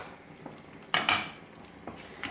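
Lid lifted off a pot of Kerala-style jackfruit seed and mango curry, a couple of close metallic clanks of lid on rim in quick succession, then faint lighter taps in a quiet kitchen.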